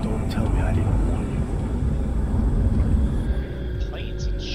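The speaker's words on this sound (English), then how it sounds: "Planes and shit above are way too fucking loud." Airplanes pass overhead as a loud, continuous low rumbling roar that fills the whole stretch, with faint voices and scattered higher noises above it.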